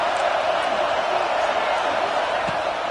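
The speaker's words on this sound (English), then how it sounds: "This crowd knows when to bring it." Stadium crowd at a UCLA college football game, a steady loud roar of many voices with rising cheers and whoops throughout.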